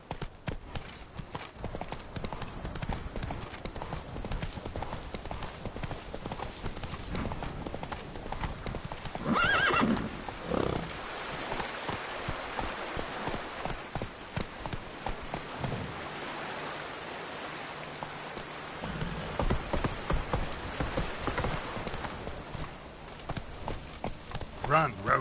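Roach, Geralt's horse in The Witcher 3, galloping with fast, continuous hoofbeats and a whinny partway through, set against rain-like noise, with voices speaking over it at times.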